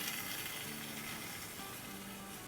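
Biryani meat cooking covered in a pan on medium-low heat, a steady dense sizzle and crackle that stays loud and continuous throughout.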